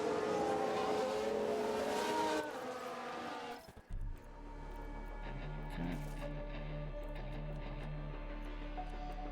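A Haas F1 car overtaking in the F1 Manager 22 racing game: a loud, high engine whine sweeps for about two seconds, then drops away to a steady low hum with faint talk underneath.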